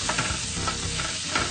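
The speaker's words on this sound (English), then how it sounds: "Give that a little stir." Onions being stirred in a hot roasting tray, a steady close sizzle with soft scraping movements running throughout, no voices.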